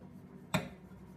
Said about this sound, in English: So I usually cut the pastry right through.